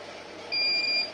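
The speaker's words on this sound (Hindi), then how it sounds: "तब हो बीप की आवाज़ करी कि नहीं करी" A Havells RO water purifier gives a single short electronic beep, a clear steady tone lasting about half a second, close and distinct over faint room noise.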